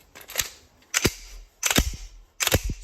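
The slide of a Gen 5 Glock pistol fitted with a PSA Dagger slide is racked four times, each a sharp close metallic clack and snap, spaced roughly evenly with no speech.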